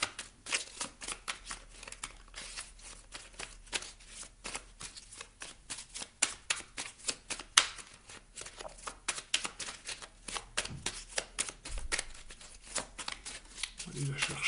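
Playing cards shuffled by hand, a rapid run of crisp riffling flutters and slaps close up, quiet and repeating throughout.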